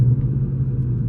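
A 2018 Ford Mustang GT's engine rumbles steadily from inside the cabin while it drives through a winter storm, a deep, even drone that holds the whole way with no talking.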